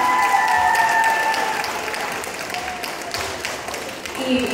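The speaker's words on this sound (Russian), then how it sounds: "Аплодисменты" A theatre audience at a medical university graduation breaks into loud, full applause for a teaching staff and curator, the dense clapping easing slightly before building again, with some voices calling out over it.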